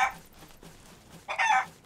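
A chicken in the video game Sea of Thieves gives two short, faint bursts of clucking about a second apart, with quiet game ambience between them.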